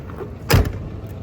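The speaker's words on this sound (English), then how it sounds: "You just don't get that clunk sound on new cars" A single heavy, low clunk of a 1979 Buick's door shutting, short and close, against quiet background hum.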